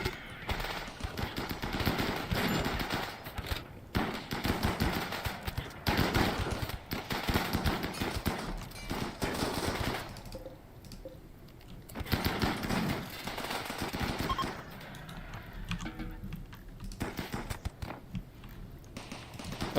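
Turrets firing at an incoming raid in the colony game Rimworld, long rapid machine-gun rattles with short pauses, dense and continuous across the scene at moderate loudness.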